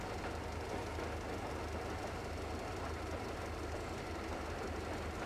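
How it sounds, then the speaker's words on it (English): Train driven in the video game Metro Exodus: a steady, rumbling engine and rail noise, even and unbroken, with no voices over it. "I am driving a train in first time in game."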